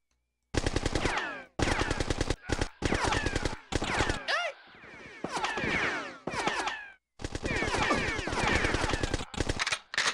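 Rapid automatic gunfire in the Bad Day L.A. video game, several long loud bursts separated by short pauses, close and dominating, with no talk over it.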